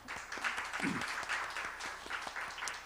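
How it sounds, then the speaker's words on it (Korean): Church congregation clapping together for a blessing during a Sunday service, a steady wash of many hands applauding at moderate volume throughout. "우리 축복의 박수 하겠습니다"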